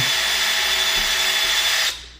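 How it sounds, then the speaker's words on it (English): Power drill boring into soft plastic on a Spirit Halloween Ghostbusters ghost trap, a loud, steady high whine and grinding for about two seconds before it abruptly cuts off, close and alone. "line it up, drill it in"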